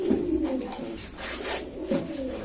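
Pigeons at a pigeon farm, including Spanish birds, coo in low, rolling calls that repeat through the clip, with several birds overlapping close by.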